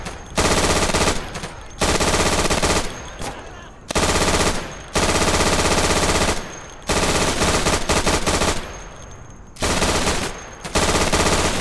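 Machine gun fire in the online shooter Day of Infamy, loud sustained bursts of rapid automatic shots lasting one to two seconds each, separated by short gaps, repeating throughout.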